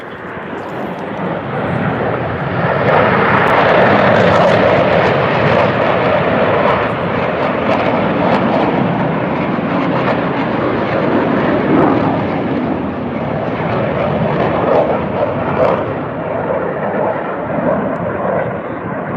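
Blue Angels military jets fly over an air show, a loud, sustained broadband roar that swells early and holds steady throughout, dominating the scene with no talk over it.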